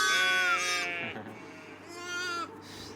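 Lambs and sheep on a French farm bleat in two long, wavering calls, close and fairly loud, with a short pause between them.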